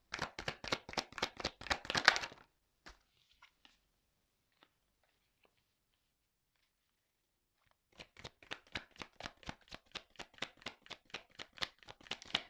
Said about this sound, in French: je vais aller directement faire sauter les cartes